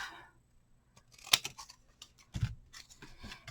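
Scissors snipping through a paper craft piece for a stamp and die card project, with a few quiet, close cuts and slight rustling of paper, the cuts spread out over a few seconds.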